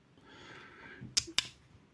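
The small scissors of a Victorinox Swiss army knife snip twice in quick succession, two sharp metallic clicks close up against a quiet background.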